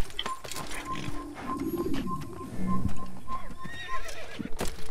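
A horse in Assassin's Creed whinnies several times over steady clip-clopping hooves, with a faint game-like tone ringing in the background.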